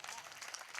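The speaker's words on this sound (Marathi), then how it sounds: "टाळी वाजवा यांच्या करता." An audience at a devotional kirtan gathering claps for a women's group that has just sung a bhajan; dense, steady applause fills the whole short moment.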